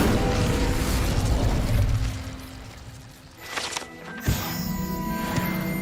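Incendio fire spell cast in the Hogwarts Legacy video game: a steady roaring whoosh of flame, then a sharp burst and crackling pop partway through, with game ambience continuing afterward.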